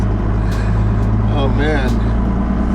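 A 1985 Dodge Ram prototype pickup with a Cummins diesel engine drives along, its loud, steady cabin drone and road rumble filling the space while someone speaks briefly over it.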